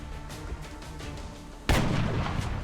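A sniper rifle fires in XCOM: Enemy Unknown, one loud close booming crack with a long rumbling tail after a stretch of low, pulsing game ambience.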